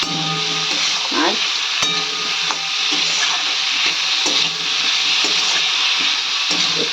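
Soybean curry is stir-fried in a pan, a constant close sizzle of frying broken by scraping stirs and sharp taps of a utensil against the pan.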